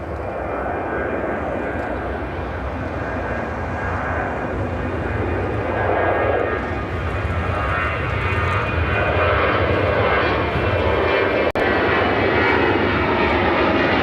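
American Airlines jet airliner engines at Chicago O'Hare hold a loud, even roar for the whole stretch, broken only by one sharp click near the end.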